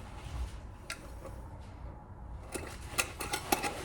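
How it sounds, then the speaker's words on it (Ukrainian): Intermittent crinkling and rustling of a plastic bag as a cat moves inside it, quiet at first then a burst of sharper crackles near the end. "Звуки, які ви зараз чуєте, це мій кіт заповз в пакет"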